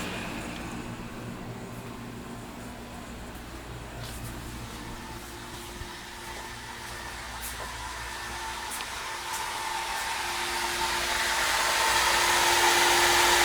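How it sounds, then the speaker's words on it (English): An off-grid air conditioner's compressor runs in a workshop powered by a 12 V LiFePO4 battery bank, inverter and solar charge controller, giving a steady mechanical hum and whir that grows gradually louder toward the end, with no talk. "Just heard the compressor kick in. Yeah, I can hear it running."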